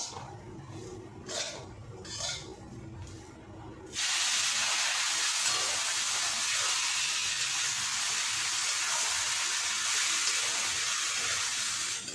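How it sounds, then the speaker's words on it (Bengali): Water added bit by bit to well-roasted semolina in a pan for upma, giving a loud, steady hissing sizzle that starts abruptly and carries on without a break after some quieter kitchen sounds. "এবার আমি এতে অল্প অল্প করে জল দিয়ে দেবো"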